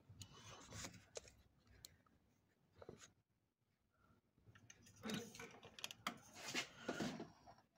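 Mechanism of a Juki LU-563 industrial walking-foot sewing machine during a shuttle hook change, turned slowly by hand as the needle lowers: soft rubbing and clicking mechanical sounds, louder bursts near the end.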